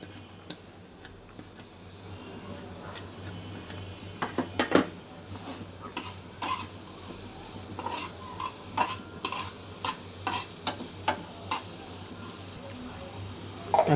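Chopped onion fries in a little oil in a pan, a low steady sizzle punctuated by repeated utensil clinks and scrapes from stirring, growing busier toward the end.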